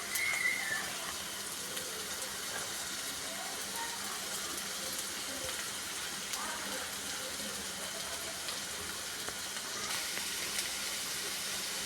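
Finely chopped onions sizzling steadily in hot oil in a home kitchen while making paneer momos, a continuous hissing crackle that holds at an even level throughout.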